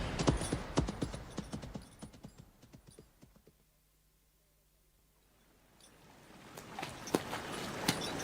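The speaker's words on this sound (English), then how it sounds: "Your horses seem to be treading uneasily." Horses tread uneasily on a road through marshland in a radio drama, their hooves clip-clopping in close, busy beats that fade to near silence and then return.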